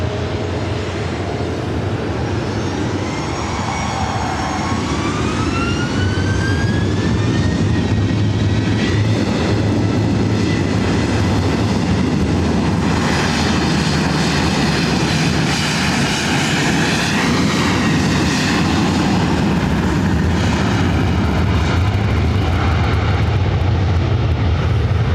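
A jet airliner bound for Seattle takes off at LAX, a loud, sustained engine roar with a rising whine that builds and holds for the full stretch, with no voices.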